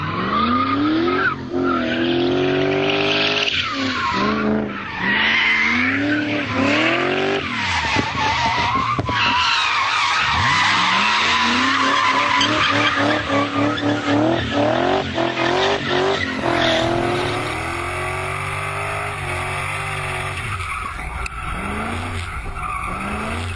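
Car drifting hard through gymkhana training, tires squealing in long wailing sweeps over a loud, continuous engine roar, close and sustained throughout with rising revs near the end.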